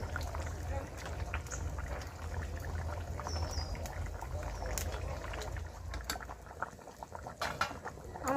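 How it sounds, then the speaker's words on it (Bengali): A silver carp and cauliflower curry with potatoes bubbles steadily in a pot on the stove. The gentle bubbling simmer is continuous, with occasional light clinks of a utensil. "আমার তরকারিটা ফুটছে"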